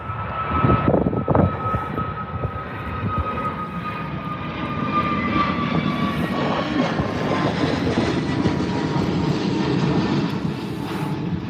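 A Jet2 Airbus A321 airliner departs Birmingham airport in cold weather, its engines building into a loud, steady roar that stays close and sustained throughout, with a high whining tone drifting slowly downward over the rumble.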